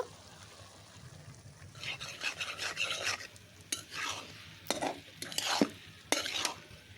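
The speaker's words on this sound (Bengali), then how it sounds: "ঢাকনাটা খুলে আমি এখন আলতো হাতে সুন্দর করে একটু নাড়িয়ে নেব" Cabbage cooked with dried shrimp is stirred in an open pan, a soft background sizzle broken by scraping spoon strokes that come in bursts and grow sharper toward the end, with no voices.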